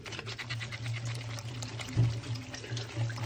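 Sardines being rinsed under running water in a colander, a steady pour and splash of water with a few louder spattering bursts, close and fairly quiet, with no talking.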